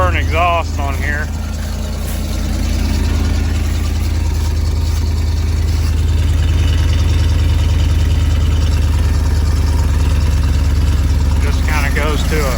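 A 1991 Ford F250 engine idles steadily with a leaky, rotted exhaust and muffler, a continuous low rumble running throughout, with someone speaking briefly at the start and end.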